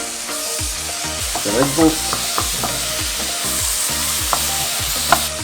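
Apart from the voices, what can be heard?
red onions caramelizing in a pan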